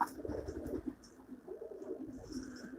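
Pigeons from a large loft flock of a longtime fancier in Avcılar, Istanbul, coo softly and repeatedly in low rolling phrases, close but quiet, with no talk over them.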